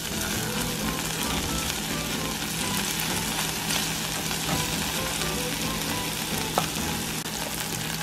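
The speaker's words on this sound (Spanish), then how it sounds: "con la cebolla y el ajo. Lo voy a dejar que se sofría un poco." Onion and garlic sautéing in oil in a pan for a Christmas green rice, a dense, continuous sizzle that stays loud and close throughout, with no talk and only a faint click near the end.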